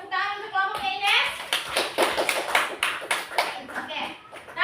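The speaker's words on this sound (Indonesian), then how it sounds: "Oke, tepuk tangan untuk kelompoknya Ines" Classroom applause for a student group: uneven clapping from children, with voices at the start and clapping bursts continuing throughout.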